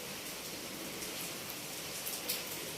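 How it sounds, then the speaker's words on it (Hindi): Heavy rain pours steadily in an even, hissing wash of drops on surfaces, fairly quiet and continuous, with a few slightly sharper patters near the end and no one speaking. "बहुत तेज बारिश होना स्टार्ट हो चुकी है।"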